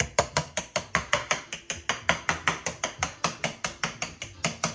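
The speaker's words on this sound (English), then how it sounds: "Whenever I make a crust like this, I like to poke it with a fork" A fork pokes repeatedly into a flattened breakfast pizza crust, about twenty sharp, evenly spaced clicking taps in a fast, steady rhythm, close and crisp with no talking.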